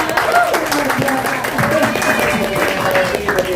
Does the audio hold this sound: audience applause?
yes